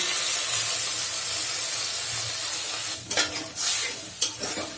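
Ground turmeric, chili, coriander and cumin with ginger-garlic paste fry with snakehead fish and pointed gourd in a pan, a dense steady sizzle broken near the end by a few stirring scrapes.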